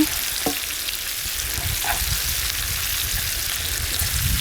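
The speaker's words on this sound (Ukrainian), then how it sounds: "О, як гарненько шкварчать вони в нас." Pork belly pieces sizzle steadily while frying in a pan, with a continuous crackling hiss and occasional stirring taps close by.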